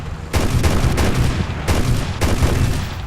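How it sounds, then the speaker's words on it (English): Aircraft cannon fire from a Russian fighter attacking an Su-2 in War Thunder: several loud, rapid bursts of automatic fire in quick succession, separated by brief gaps, with heavy low-end thump. "Basically hit his wing with a cannon which exploded and then blew up his fuel in his wing."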